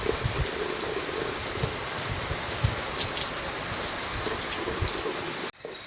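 Heavy village rain falls continuously, a thick hiss of drops striking surfaces with faint low rumbles underneath, ending with a brief drop in level near the end; nobody talks.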